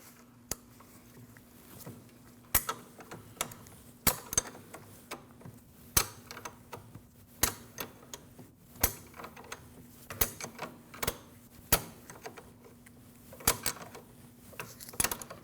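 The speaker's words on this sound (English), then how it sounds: "You take your wrench, you put it on the nut, take your 5mm Allen, insert it there." A wrench works the 14mm rear sway bar link nut on a 2012-2016 Honda CR-V, making sharp, evenly spaced ratcheting clicks that repeat steadily over a low background hum.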